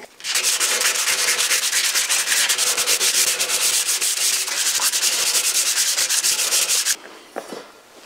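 An axe head is sanded by hand with abrasive grit, rapid rhythmic scratchy strokes close up and steady for about seven seconds before stopping, followed by a few faint handling sounds.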